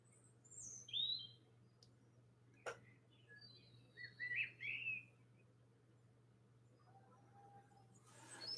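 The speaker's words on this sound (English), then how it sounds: "the birds are outside." Birds outside an open window give a few faint, scattered chirps and short twittering calls, separated by quiet stretches, with a soft steady hum and one sharp click in the room.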